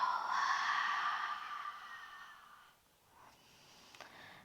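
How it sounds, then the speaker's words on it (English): A slow, deep breath out at the close of a power yoga class, soft and airy, fading gradually over a few seconds into near quiet, with a faint rustle at the end. "And one slow exhale."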